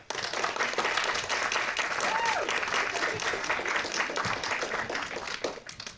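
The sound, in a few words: audience applauding cosplayers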